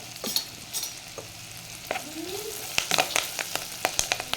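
Curry leaves fry in a pan of softened onions and chili powder for a fish curry, giving a steady close sizzle broken by sharp spatula scrapes and clicks that bunch together toward the end.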